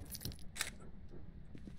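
Car keys jangle briefly in the horror game Phasmophobia, producing a few quick, faint metallic clinks close by over a low background hum.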